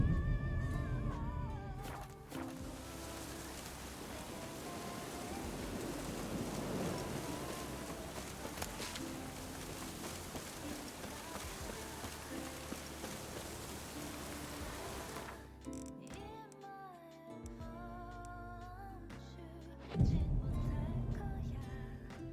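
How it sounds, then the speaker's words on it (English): Steady rain falling for most of the stretch, a broad even hiss at moderate level, broken off near the end by other indoor sounds and a brief louder burst. "It's still rainy."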